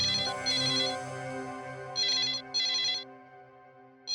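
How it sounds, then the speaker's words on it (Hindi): A telephone rings in two electronic bursts, each a pair of quick warbling trills separated by short pauses, loud and close, with a steady music bed playing underneath in a Hindi crime-drama scene. "शायद किडनैपर का फोन होगा।"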